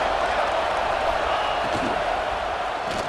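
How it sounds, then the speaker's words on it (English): A stadium crowd in the EA Sports College Football 26 video game roars steadily near the goal line, a dense, continuous wash of cheering noise at an even level throughout. "The crowd really making some noise now, trying to help out this defense to get this stop near the goal line."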